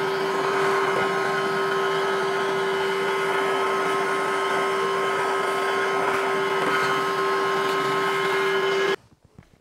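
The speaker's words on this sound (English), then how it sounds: "I'm going to go ahead and vacuum it" A vacuum cleaner runs with a steady, loud whine and airy roar while cleaning a Panasonic Intelli-Balance 100 ERV, then shuts off abruptly near the end.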